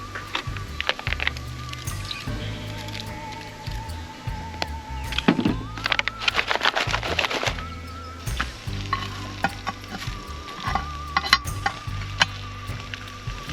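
Vegetables sizzling on top of a camp oven over a fire pit, a loud continuous fry with intermittent scraping, stirring and metal clanks, no talking.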